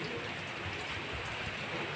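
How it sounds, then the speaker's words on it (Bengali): Steady, easing rain falls on a garden, making a continuous soft, even hiss without distinct drops or thunder. "বৃষ্টি কমছে"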